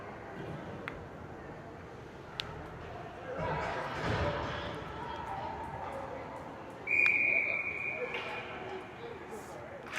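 A referee's whistle at an ice hockey game between the Whalers and Wildcats blows one sharp, sustained blast after an icing, over crowd noise and arena ambience.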